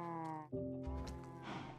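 Minecraft cow mooing, a pair of drawn-out nasal calls with steady harmonic tone, one cut short and the next starting right after, heard up close in a game.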